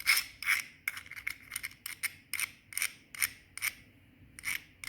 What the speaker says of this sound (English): Now I need to sand down the raised edges to create a flat, even surface.